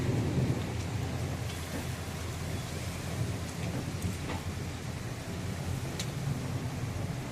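Heavy thunderstorm with steady pouring rain and rumbling thunder in a sudden weather change, a constant dense roar of rain close by, no voices.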